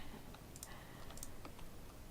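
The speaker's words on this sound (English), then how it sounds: "You're probably just hearing my keyboard frantically through the microphone." Quiet, rapid keyboard typing clatters in irregular bursts of key clicks, faint and continuous with no voices.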